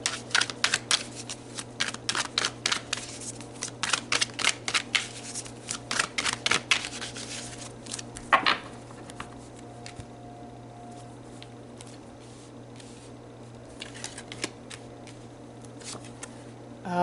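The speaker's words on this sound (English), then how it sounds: "Let's pull some more cards." Tarot cards are pulled and handled in a series of quick, crisp flicks and shuffles, clustered in bursts with pauses between, close and fairly quiet over a steady low hum.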